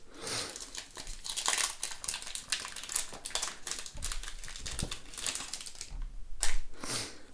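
Trading card booster packs from a La Voie du Maître box are unwrapped by hand. Close, irregular crinkling and crackling of foil wrappers continues throughout, with sharper tearing bursts scattered among it.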